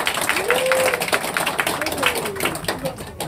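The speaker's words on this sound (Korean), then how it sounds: "큰 박수로." An audience claps at a campaign office opening in Suyeong, Busan, giving dense, continuous applause close by while a voice speaks over it.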